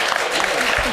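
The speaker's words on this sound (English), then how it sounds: "Please hold your applause until the end." Brief burst of audience applause during a Wisconsin 1st Congressional District debate, a dense wash of clapping from a room full of people that fills the moment.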